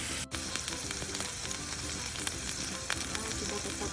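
Steak fries in a hot pan with a dense, continuous sizzle and crackle that stays close and loud the whole time, with no one speaking.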